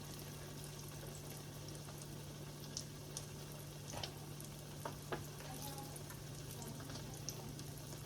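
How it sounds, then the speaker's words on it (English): Oil sizzles and crackles steadily at low volume as croquettes fry, with scattered small pops and a faint constant hum underneath. "So I'm frying up my last batch"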